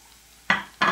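Beef being added to a pan with chile and stirred, two short bursts of scraping and sizzling close by against near silence.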